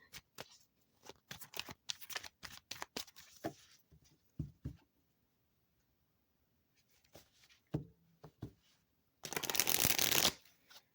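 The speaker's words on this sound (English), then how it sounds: "okay, you heard me shuffle" Tarot cards riffle and snap in quick bursts, pausing between shuffles, with a longer dense shuffle near the end; quiet and close, no talking.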